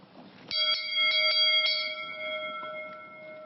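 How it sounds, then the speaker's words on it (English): Hand bell carried by a traditional Japanese tofu seller, a family bell used for three generations, rung in several bright metallic strikes that leave a long ringing tone fading out alone. "The bell has been used since his grandfather's generation."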